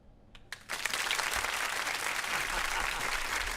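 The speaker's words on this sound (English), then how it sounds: "I wait for the applause." A loud burst of audience applause greets a show host at a live event, starting after a brief quiet moment and holding steady as dense, continuous clapping.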